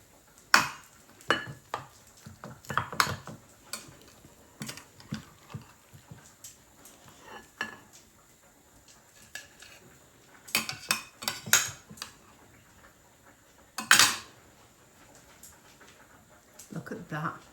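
Salmon and spinach lasagna fresh from the oven is served with cutlery. Close clinks and scrapes of a utensil on the dish come in scattered bursts, with a few louder knocks and clatters, and a person speaks.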